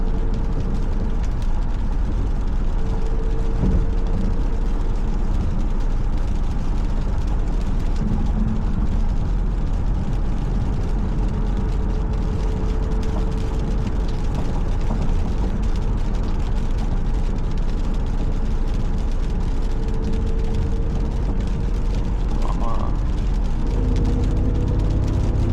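An Audi S6 with a V10 engine drives along in a steady, loud cabin drone, with a constant low engine and road rumble and faint tonal whine, no voices.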